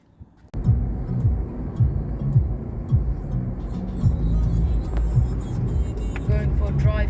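A 2010 Toyota Land Cruiser Prado TXL drives along a mountain road in Oman. From inside the cabin, a continuous low engine and road rumble rises and falls gently with the pace of travel.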